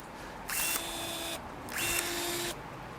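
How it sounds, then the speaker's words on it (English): A Ryobi cordless pruning shear runs in two short motorized bursts, each a close high whir lasting under a second, with quiet pauses between and no speech. "I'll start cutting first with the Ryobi, then the AEG."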